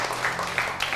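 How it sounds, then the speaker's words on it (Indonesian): Audience applause at a youth forum on young people's role in the nation, as a student activist from the social and political sciences faculty is introduced. It forms a steady, fairly soft wash with a voice faintly underneath. "Ya, tepuk tangan untuk Mas Doni."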